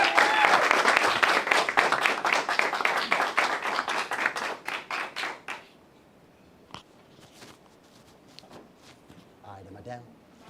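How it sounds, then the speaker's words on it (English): Dense applause from a group fills the first half, loud and continuous, then trails off into scattered claps and quiet room noise. "give yourselves a round of applause."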